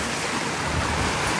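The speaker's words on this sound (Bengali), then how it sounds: "প্রচন্ড পরিমাণে হাওয়া হচ্ছে" Strong wind and rain roar around a boat packed among other tourist boats in the Sundarbans during a storm, a dense, continuous wash of noise close to the microphone with no voices.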